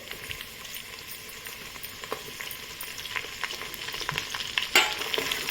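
Garlic and curry leaves fry in a pan with a dense, continuous close sizzle, stirring scrapes and small crackles, and a sharper pop near the end, with no talking.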